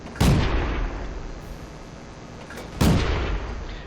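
Two heavy tank cannon shots from the T127 in World of Tanks, each a loud booming blast with a trailing rumble, spaced about two and a half seconds apart over a low engine drone.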